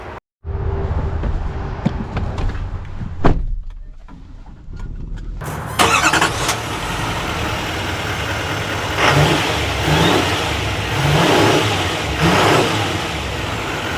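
A 2025 Chevy Silverado HD Trail Boss pickup truck starts up and pulls away, its engine rising in surges of revving acceleration, loud and close, with no voices.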